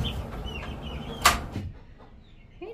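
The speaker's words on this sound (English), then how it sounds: "He's a rooster." A colourful rooster with feathered feet gives a few short clucks close by, mixed with some rustling and a sharp knock partway through.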